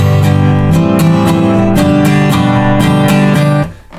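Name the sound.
guitar playing last bar of bridge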